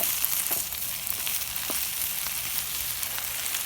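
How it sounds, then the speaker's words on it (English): Food sizzles steadily in hot oil and butter on a STŌK drum grill, with a constant crackling hiss and faint scraping stir strokes throughout, no talking. "Now we're going to stir this around."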